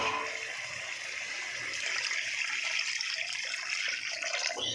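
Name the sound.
water being poured into fish curry pot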